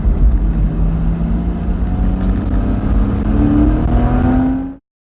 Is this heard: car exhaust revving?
yes